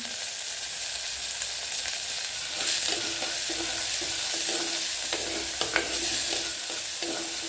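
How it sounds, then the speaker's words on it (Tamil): Vegetables fry in oil for a tamarind curry, a continuous close sizzle with a ladle repeatedly scraping and stirring through the pan at an even pace. "காய் நல்லா எண்ணெயில் வணங்கணும் நல்லா பொறிஞ்சு வரணும்"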